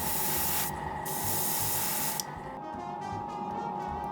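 Navy blue paint hisses steadily from a spray gun onto Gundam model kit parts, close and continuous, with brief pauses and bursts in the airflow.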